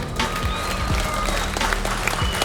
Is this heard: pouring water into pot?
no